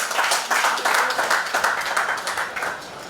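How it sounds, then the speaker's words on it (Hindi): An audience at a district student-union workers' conference claps enthusiastically to welcome a speaker, dense applause that builds and then tapers off over a few seconds. "एक बार जोरदार तालियों से स्वागत करें।"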